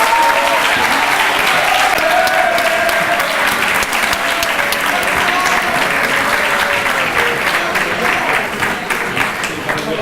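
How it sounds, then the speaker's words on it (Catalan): A school graduation ceremony audience claps loudly and continuously, a dense crackle of applause with faint voices beneath it. "Rebem amb un fort aplaudiment al nostre director"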